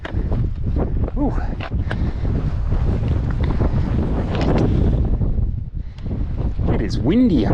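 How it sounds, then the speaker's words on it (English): Strong wind roars and buffets the microphone continuously and loudly on Franconia Ridge, New Hampshire, above tree line, with a person talking underneath the gusts. "It is windy up here."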